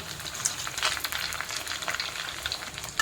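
Millet medu vada deep-fry in hot oil, a steady crackling bubble of frying close by, with no voices.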